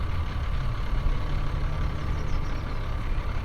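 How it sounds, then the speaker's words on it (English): BMW E46 325i with a UUC Motorwerks lightweight flywheel idling, giving a steady low rattling chatter with a diesel-like rumble, continuous and close with no speech. "since there's no dual mass flywheel to dampen vibrations from the engine, you get what's called flywheel chatter,"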